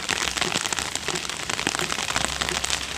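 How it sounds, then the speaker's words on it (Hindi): Heavy rain pours steadily on a home kitchen garden, a dense, even hiss of drops close by with no voices. "आज हमारे यहाँ बहुत अच्छी बारिश हो रही है।"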